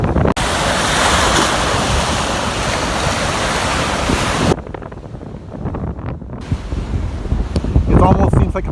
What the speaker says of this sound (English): Look at these big waves.